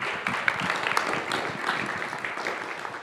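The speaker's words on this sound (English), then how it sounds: "Applause." Audience applause following a conference talk on façade design, a steady wash of clapping from a crowd filling the whole stretch at moderate level, no voices on top.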